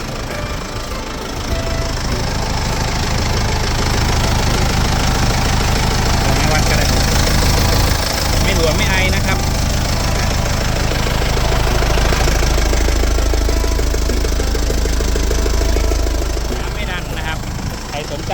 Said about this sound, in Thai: ราคานี้ออกไวแน่นอนครับสำหรับคูโบต้านะครับรุ่น M7040 เป็นรถไถนะครับ